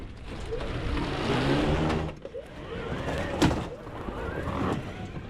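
Golf cart running on a 48V VATRER lithium battery, driven hard in Central Florida, giving a continuous moderate whir and rolling rumble with a brief dip partway through and a sharp knock near the middle.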